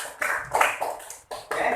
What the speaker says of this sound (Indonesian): tepuk tangan buat Mbak Belva